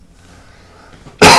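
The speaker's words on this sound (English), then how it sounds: "I've been having some coughing issues" A single loud, harsh cough bursts out abruptly after a stretch of quiet room tone, close to the microphone.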